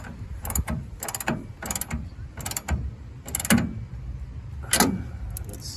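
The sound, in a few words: screwing down bolts on bed rack brackets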